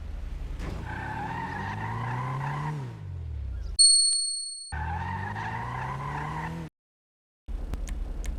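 Karin Futo, a rear-wheel-drive car in a video game, drifts with loud tire squeal over a revving engine, in two long skids broken by a short metallic chime and then a brief silence before the engine returns.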